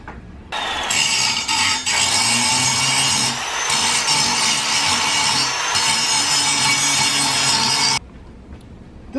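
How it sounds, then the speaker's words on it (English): Power grinder working down the welds on a steel tow bar hitch, a loud, steady, harsh grinding roar that runs continuously with slight dips before cutting off near the end. "all these welds have to get ground down just a little bit at a time, until this fits tight."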